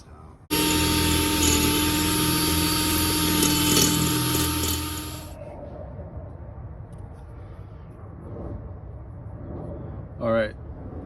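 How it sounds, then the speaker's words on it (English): A power drill boring out a stripped hole in a van runs loud and close in one long continuous whine for about five seconds, then stops, leaving quieter handling noises and a brief sharp tool sound near the end. "let me finish trying to drill this out."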